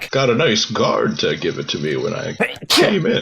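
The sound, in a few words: sneeze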